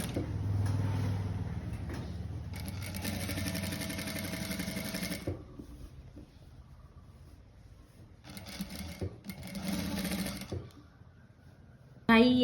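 Sewing machine stitching the back facing piece onto a model gown: a steady close mechanical whirring hum in long runs, stopping and restarting, with quiet handling between.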